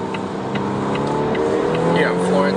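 The four-cylinder supercharged and turbocharged engine of a 2019 Volvo S60 T6 R-Design accelerates on a highway, a rising hum with a mild exhaust note heard from inside the cabin, partly under someone talking.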